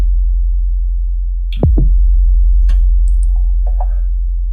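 A pure sine-wave sub-bass tone for heavy electronic music hums steadily and loudly from start to finish, while a few short clicks and chirps flicker briefly above it.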